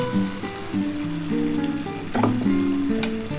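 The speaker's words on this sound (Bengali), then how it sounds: "এই যে পোস্তর জলটা বন্ধুরা এটা আমি দিয়ে দিচ্ছি" Poppy seed paste mixed with water goes into a hot pan of ridge gourd and potato, and a louder burst of sizzling rises over a constant frying hiss. Melodic background music plays throughout.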